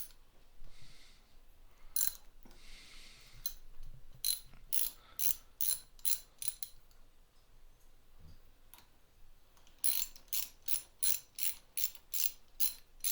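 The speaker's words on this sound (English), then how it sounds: "we're going to work on the front brake here and get this hose clamp off." Ratcheting tool work on the front brake hose clamp of an SSR 70C motorcycle, with bursts of quick metallic clicks, a few early ones and then a steady run of evenly spaced ratchet clicks near and clear, with no talk.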